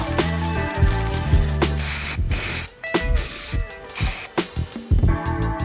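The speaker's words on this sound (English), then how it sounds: "I will finish this one by spraying a clear coat on it." Clear coat sprayed from an aerosol can onto a 3D printed forged carbon fiber shift knob, several loud hissing bursts of varying length separated by short pauses, close up.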